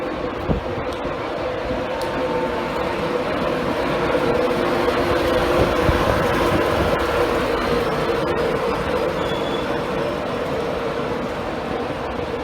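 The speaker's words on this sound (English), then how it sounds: "This is coming in the 14:11 Virgin East Coast service to Newcastle from London King's Cross." A Virgin East Coast train service from London King's Cross to Newcastle arriving at Doncaster station, a steady loud rumble and rolling rail noise with faint high squeals, continuous and close on the platform, no speech.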